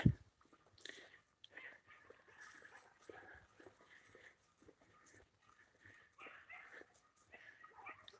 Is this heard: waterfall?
no